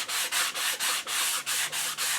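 Rhythmic hand sanding on a wooden HW30 air rifle stock, each stroke a bright scratchy rasp with short pauses between, near and consistent, nine or so strokes, no speech.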